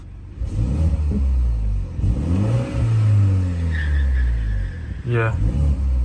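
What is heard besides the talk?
car exhaust in sport mode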